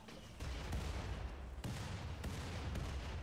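Turret gunfire in the colony-building game Rimworld: a handful of loud, sharp shots land at uneven intervals over a steady background rumble.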